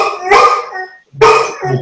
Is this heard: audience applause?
no